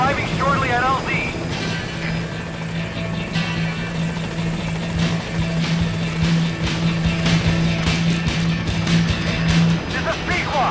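A helicopter arriving at a landing zone in the video game Metal Gear Solid V: The Phantom Pain, with a steady, close rotor drone and engine hum throughout and faint rhythmic blade chop rising toward the end.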